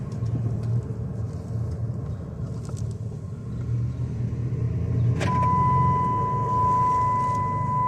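A Dodge Caravan minivan on the road with a fault making a helicopter-like noise, heard as a low throbbing rumble under steady road and engine noise, with a thin steady whine joining partway through.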